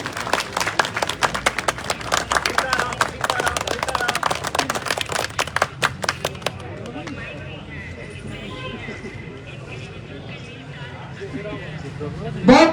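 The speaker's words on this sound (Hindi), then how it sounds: "जोरदार तालियों से स्वागत।" Applause for a guest welcomed onto the stage at a live Haryanvi ragni political event, a dense burst of clapping for about six seconds that then fades into quieter crowd murmur.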